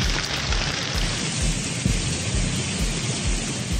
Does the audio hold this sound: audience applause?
no